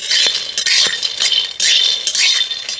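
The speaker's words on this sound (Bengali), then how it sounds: "বাদামটা অল্প কিছুক্ষণ ভেজে নিয়েছি, এবার ওর সাথে আমি শুকনো লঙ্কাটাও দিয়ে দিলাম।" Peanuts and dried red chillies tossed in a dry wok make a close, busy rattling and scraping, with bursts of clinking as the spatula stirs them, loudest in two long stretches.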